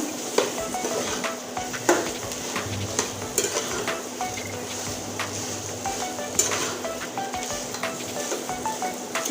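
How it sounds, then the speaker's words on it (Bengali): Potato pieces frying in spiced oil in a pan, giving a steady low sizzle with scattered clinks and scrapes of a spoon stirring against the metal, close and moderately loud with no talking. "দেখুন মশলার ভিতরে আলুটা পড়ে গিয়েছে এবার সুন্দর করে এটা ভাজতে থাকবো"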